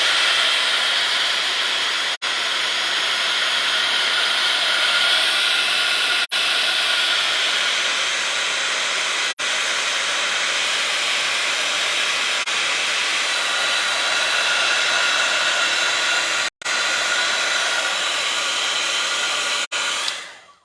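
A heat tool drying texture paste on an art journal page roars loudly and steadily up close, cut by a few brief gaps where it stops and restarts, with no talk over it.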